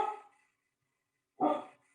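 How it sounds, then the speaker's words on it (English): Two short, loud dog barks heard close by indoors, spaced about a second apart with silence between them. "can you all hear my dog barking?"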